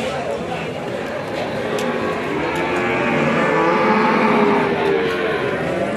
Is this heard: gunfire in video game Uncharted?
no